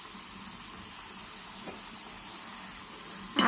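Grated beetroot sizzles in hot oil in a home kitchen pan while being fried down for a homemade beauty oil, a faint steady hiss throughout with a brief sharp clatter at the very end.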